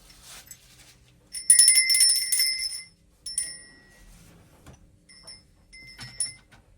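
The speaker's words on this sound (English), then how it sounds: "It's quite a nice bell actually, it's got a lot of age to it." An old bell with a nice chime rings in a few bright metallic strikes, the first sustained and loudest, then shorter fainter rings with brief gaps between.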